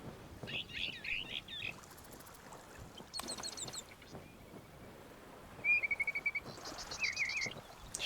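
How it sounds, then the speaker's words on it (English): Birds in the pirate video game Sea of Thieves chirp in short scattered bursts of trills and tweets over a soft ambient bed of water and wind. "Sure are a lot of birds chirping away in this game."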